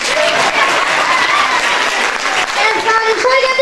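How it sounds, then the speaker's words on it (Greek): Audience applause fills a school Christmas show at a special experimental primary school in Rhodes, dense steady clapping throughout with a voice singing or speaking over it toward the end. "Χειροκρότημα."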